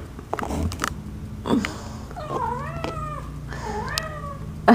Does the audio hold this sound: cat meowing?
yes